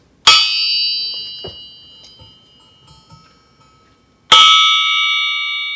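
Two loud metallic strikes on a forged steel small-block crankshaft, each followed by a long, clear ringing tone that sustains and slowly decays; the second ring carries on to the end.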